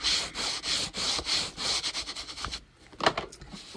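Adhered paper on the bottom of a box is rubbed down by hand in a quick series of close, dry rasping strokes, then a short pause and a few softer rubs.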